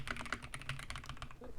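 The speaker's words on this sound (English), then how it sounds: "start typing a transcription" Quick, light clicks of typing on a computer keyboard, a close, irregular patter of keystrokes.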